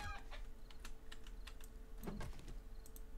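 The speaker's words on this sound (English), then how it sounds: "Alright, killed a chicken." A chicken is killed in the survival video game 7 Days to Die, giving short faint clucks amid quick clicky keyboard typing, with scattered sharp taps throughout.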